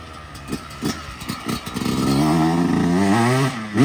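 A 125cc dirt bike gets kicked over several times with separate thumps. Then the cold engine catches and runs with a rising, slightly uneven revving drone, close and loud.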